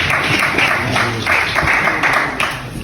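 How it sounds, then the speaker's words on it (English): Audience applause fills a hall at a gathering on uniting the Igbo people, a steady wash of many hands clapping close and loud throughout, with no pause. "A round of applause to South Africa."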